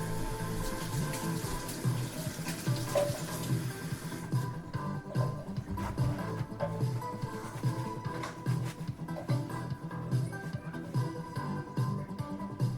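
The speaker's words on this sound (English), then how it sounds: "Wash my hands a lot." Hands are washed under a running kitchen tap, water streaming steadily and faintly with soft splashing and shifting flow, a low continuous wash that quiets partway through.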